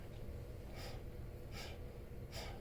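Three forceful huffs breathed out through an open airway, spaced evenly about a second apart, close and breathy over a steady low background rumble, as practised in an airway clearance technique.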